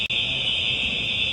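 A building fire alarm sounds continuously as one steady, loud, piercing electronic tone, broken only by a brief dropout near the start, with no talking over it.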